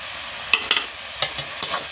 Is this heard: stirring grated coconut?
yes